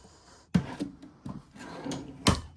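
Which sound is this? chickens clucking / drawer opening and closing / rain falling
drawer opening and closing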